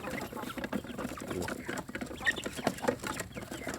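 Backyard chickens cluck and peck while eating, with busy, overlapping clucks and scratching from several birds close by and no talk.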